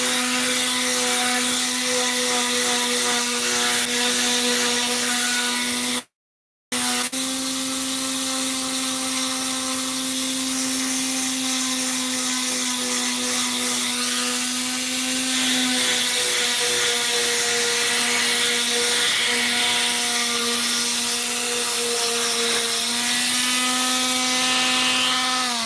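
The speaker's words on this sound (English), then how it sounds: "That's all the sanding that needed to be done." Loud, continuous high-pitched whine of a power sander running steadily on a boat floor, cut off briefly once, then resuming with slight pitch shifts.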